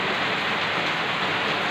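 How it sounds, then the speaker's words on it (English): Heavy rain from typhoon Agaton pours down in a dense, unbroken hiss, loud and close on surrounding surfaces, with no voices. "So it's raining again."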